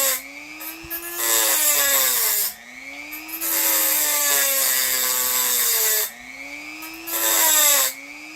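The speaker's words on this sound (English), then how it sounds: "This Dremel, this is only the second time I've used it." A Dremel rotary tool cuts into a thick knife blade, its high whine rising and falling in three long bursts separated by short pauses, loud and close, with no talking.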